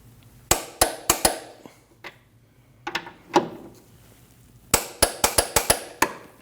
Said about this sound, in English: Those 2 get torqued down to 95 foot-pounds.